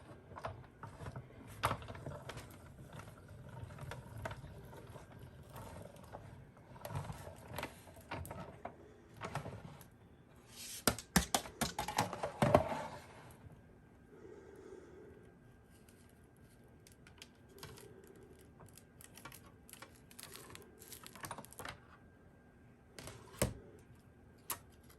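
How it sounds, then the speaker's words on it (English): An Anna Griffin manual die-cutting and embossing machine is cranked with plates and dies inside, giving quiet, irregular mechanical clicks, ratcheting ticks and short rattles spread over the stretch. "we're gonna crank it through the machine."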